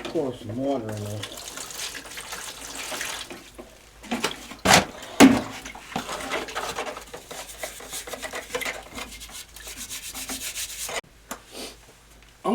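Mortar being mixed with water in a bucket for filling a hole, a steady gritty scraping and sloshing that runs throughout, with a few sharp knocks partway through and occasional speech over it.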